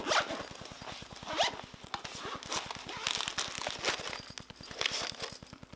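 Zipper pulled along an accordion-style front pocket of a double-zip organizer pouch, a close, steady rapid ratcheting of teeth lasting several seconds with small handling rustles on top.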